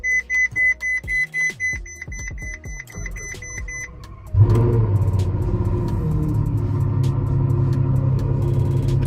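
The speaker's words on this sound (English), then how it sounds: "Sport exhaust system. This thing sounds crazy." A run of short electronic beeps and clicks, then a Ferrari FF's 650-horsepower engine fires up through its sport exhaust into a loud, deep, sustained rumble.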